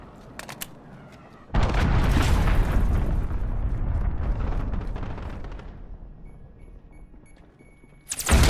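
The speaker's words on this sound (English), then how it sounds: "Enemy cruise missile incoming" A cruise missile blast in Call of Duty: Modern Warfare, a sudden heavy explosion erupting into a long rumbling roar that slowly decays, loud and close, with another burst beginning at the end.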